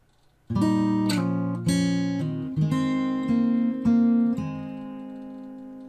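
Fingerstyle guitar playing a piece, with plucked chord tones and a descending line that ring over one another in a steady flowing phrase, close and clear, without talk.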